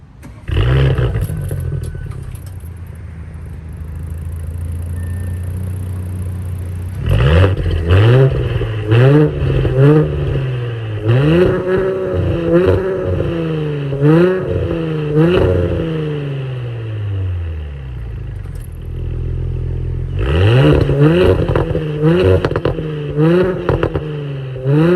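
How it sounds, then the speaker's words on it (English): An Audi B9 S4/S5 with a VPS resonator delete exhaust revs while stationary, deep idle rumbling between repeated rising and falling revs, loud and close, with crackles as the revs drop. "get some revs and exhaust clips while standing still"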